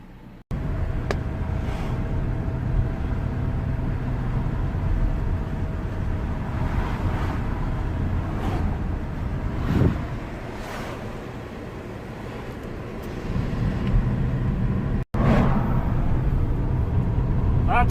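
A BMW 318i E90 with a misfire on cylinder 3 drives along, giving a steady low engine and road rumble that swells and dips with a brief dropout near the end, without any talk.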